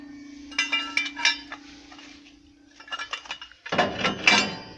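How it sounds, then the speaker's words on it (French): A lever on a Godin pellet stove rakes the heat exchanger tubes, giving two bursts of metallic scraping and ratcheting clanks separated by a pause, with a steady low hum underneath that stops near the end. "Racler les tubulures grâce à cette manette qu'on retrouve ici"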